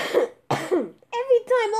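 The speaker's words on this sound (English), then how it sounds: "all this screaming is making me cough!" Two harsh coughs close to the microphone, then a voice speaking loudly.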